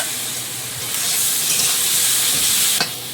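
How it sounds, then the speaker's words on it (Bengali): Prawns coated in salt, turmeric, poppy seed and green chilli paste fry in a pan with a loud, close, continuous sizzle, swelling as they are stirred, with a sharp scrape near the end. "এইটা একটু হালকা নাড়াচাড়া করে ভেজে নেব"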